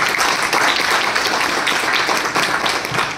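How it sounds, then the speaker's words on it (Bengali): Sustained, dense applause from a meeting audience, loud and steady throughout with no pause or speech over it. "সবার জবরদস্ত তালির সাথে আমি নাম নেবো পহেলা কদম"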